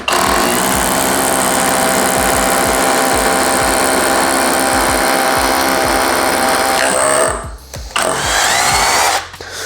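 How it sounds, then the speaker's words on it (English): An Erbauer V2 SDS drill boring a 10mm SDS bit into a 50mm concrete slab clamped to a workbench, a loud, steady grinding hammer whine running continuously near the mic, briefly stopping and restarting toward the end. "I've clamped a 50mm piece of concrete slab to my bench here, and we're going to start with a 10mm SDS bit."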